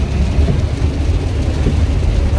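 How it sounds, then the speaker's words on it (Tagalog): Steady rain on the road during a drive to a beach resort in Calatagan, Batangas, a dense continuous wash of noise with low rumble, loud and unbroken, no voices. "Umuulan na guys."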